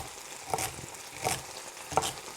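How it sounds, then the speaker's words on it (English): Short rib meat browning in a Ninja PossibleCooker Pro, a quiet steady sizzle with three brief stirring scrapes spaced through the moment, close and without talk. "So this meat's probably been cooking for like 10 or 15 minutes now. So we're trying to get a little bit of brownage on it"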